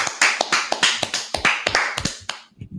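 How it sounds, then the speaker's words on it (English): A quick run of hand claps, about a dozen sharp, close, loud slaps in an uneven rhythm, with no talking. "All right, clap."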